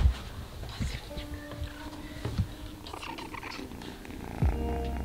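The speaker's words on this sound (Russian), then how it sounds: "Давай мурчи мне в микрофон." A cat purrs close to the microphone in a steady, low rumbling rhythm, with occasional soft sniffing and brief handling noises; no one speaks.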